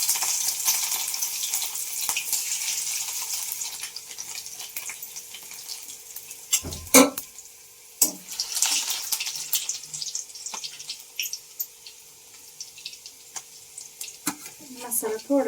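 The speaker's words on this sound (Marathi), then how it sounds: "मी फक्त जिरेस टाकते आणि असा ठेचलेला लसूण अर्धा टाकते" Cumin seeds and crushed garlic frying in hot oil in a pan, a steady hiss and sizzle with a loud clatter of utensils midway and scattered stirring scrapes.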